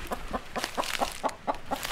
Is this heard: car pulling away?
no